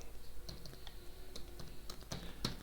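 Quiet, irregular clicks of keys on an Amiga keyboard as a player name is typed in, a handful of separate taps with short pauses between them, close and soft.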